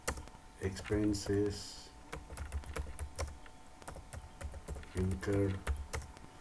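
Keys clatter on a computer keyboard while an Excel table is set up, with quick irregular taps and short bursts at close range, quiet, between short stretches of someone speaking.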